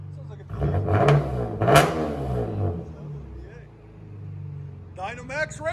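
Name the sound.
Chevy Camaro 3.6L V6 revving with Dynomax Race Bullet exhaust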